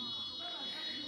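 Inside a building, a fire alarm holds one piercing, continuous electronic tone through the whole brief moment, with muffled voices and room noise underneath.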